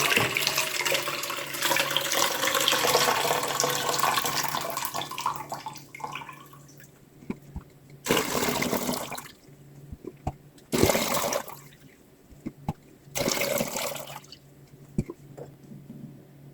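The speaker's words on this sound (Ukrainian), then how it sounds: "Пройшло півгодини, зливаємо маринад." Marinade drains steadily from jars of pickled cucumbers for several seconds, then comes in three separate gushes with quiet dripping between them, nearby, with no speech.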